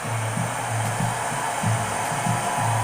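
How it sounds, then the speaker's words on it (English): A blow dryer heats braided type 4a hair with a loud, steady whooshing blast held close, its drone wavering rhythmically as it moves back and forth over the hair, with no voices. "Then we're just going to put the blow dryer back over it again, just to give it some heat"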